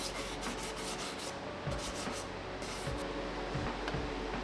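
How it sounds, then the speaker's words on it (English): Continuous rubbing and scratching of sandpaper on walnut, a steady, loud abrasive hiss with quick back-and-forth strokes, no voices. "It was especially time-consuming sanding all the flutes."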